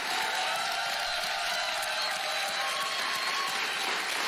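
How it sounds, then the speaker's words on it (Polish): A studio audience on the TV quiz show Awantura o Kasę applauds, a dense, steady wash of clapping hands that holds at an even level throughout without pause. "To były bardzo szczere brawa dla państwa od publiczności."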